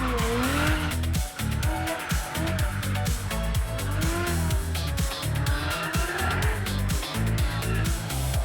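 A drift car at a Russian drift series round at Igora Drive, engine roaring and revving hard while tires squeal and skid almost continuously across a challenging road surface, loud and close throughout.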